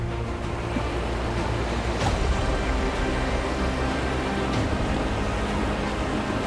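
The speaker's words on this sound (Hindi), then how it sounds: "पानी इतना जोर से आ रहा है कि ये चेक करो" Water pours forcefully down Belapur waterfall during a trek, making a loud, steady, unbroken roar that fills the whole stretch with no voices.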